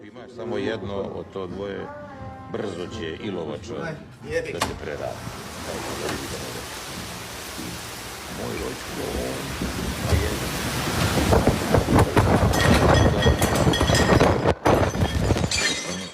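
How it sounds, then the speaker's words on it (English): A severe thunderstorm with heavy rain and strong winds in Zagreb, Croatia: a dense, roaring downpour builds and grows louder, with crashing and clinking debris, while a voice talks over the early part. "A severe thunderstorm accompanied by strong winds and heavy rain hit Zagreb on Monday morning"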